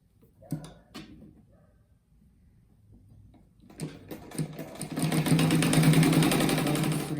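After a few scattered clicks and handling knocks, a sewing machine starts up and stitches fabric strips for a mat, its fast needle rhythm swelling and holding steady near the microphone.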